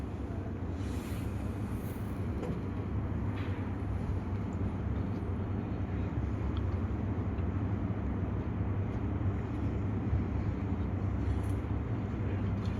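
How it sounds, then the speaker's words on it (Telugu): A Lloyd washing machine's drain motor runs during a spin test, giving a steady, low, continuous hum and whir throughout. "ఇప్పుడు స్పిన్ ఇది డ్రైన్ మోటార్ సౌండ్ ఒకటి వస్తుంది చూడు"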